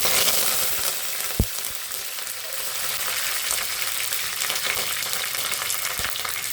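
Mustard seeds and curry leaves sizzle steadily in hot oil in a pressure cooker while a sambar of beans, lentils and potato is started, a close, continuous crackling hiss with one sharp pop, no voices.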